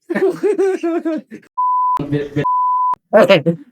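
Two steady electronic censor bleeps, each about half a second, are inserted between bursts of casual Indonesian conversation, cutting sharply in and out at the same pitch.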